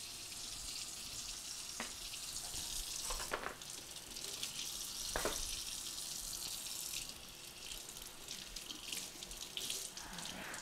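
Tap water runs steadily into a sink in a kitchen while chicken is prepared for frying, a continuous splashing hiss throughout with a few brief clatters, no voices.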